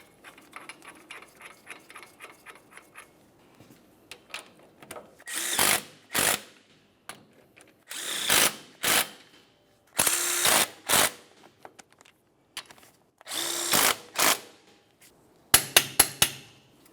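Power tool and ratchet snugging wheel bearing mounting bolts on a 1994-2002 Dodge Ram 2500 front hub, bursts of loud, close whirring and clicking repeating about five times with short pauses, after a quieter ticking stretch.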